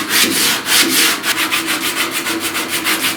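Body filler being sanded by hand with 80 grit sandpaper on a truck cab corner, a close, loud, rhythmic rasp of repeated back-and-forth strokes with no talking.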